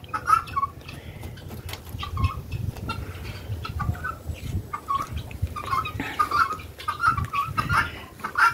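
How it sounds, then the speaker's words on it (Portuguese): Free-range hens and a rooster on a country smallholding cluck repeatedly in bursts throughout, moderately close, over a low rumbling background. "E ali tem uma galinha, junto com ele."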